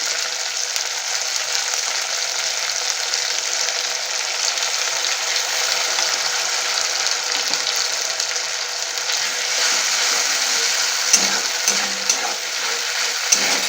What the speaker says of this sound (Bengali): এই লঙ্কার যে পেস্টটা দিয়েছি সেটাকে আমি এইভাবে কিছুক্ষণ কষে নেব